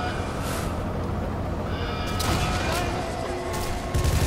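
Gunfire inside the Sniper Elite 3 video game, a dense volley of shots crackling over a steady background with louder bursts near the end, no clear speech.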